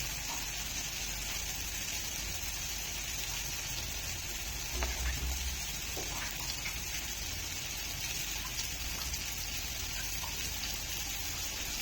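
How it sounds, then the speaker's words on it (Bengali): Water poured into a pan of frying egg curry, giving a steady, hushed sizzle and bubbling. A few soft clinks and a brief low thump sound near the middle. "বন্ধুরা জল দিয়ে দিচ্ছি।"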